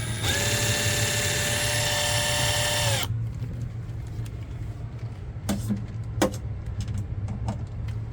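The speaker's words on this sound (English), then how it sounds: "I was able to get the screws in there with my right angle drill" A right-angle drill whines at high speed for about three seconds driving screws, then stops, followed by a few brief clicks and knocks over a low hum.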